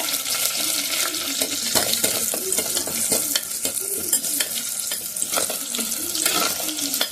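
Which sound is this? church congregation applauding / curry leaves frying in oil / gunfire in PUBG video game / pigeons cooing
curry leaves frying in oil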